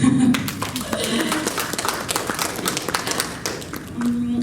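Audience applause at Kuala Lumpur Fashion Week 2022, scattered clapping from a crowd in a hall, moderately loud, with an amplified voice and music sounding over it.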